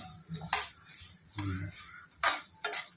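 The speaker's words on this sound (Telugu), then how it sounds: "కాకపోతే ఇట్లా కలిపైనా వేగిపోతాయి చక్కగా" Whole spices for nalla karam dry-roasting in a pan, with repeated scraping stir strokes and a faint sizzle, close and moderately loud, with a brief low murmur of voice in the middle.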